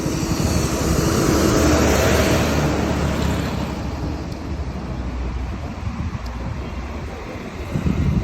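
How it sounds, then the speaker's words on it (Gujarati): Riding a Bajaj CT 100 motorcycle on the highway out of Vadodara, with a steady engine drone buried under heavy wind rush against the microphone, loud and continuous throughout. "આ બાઇક છે બજાજ સિટી 100"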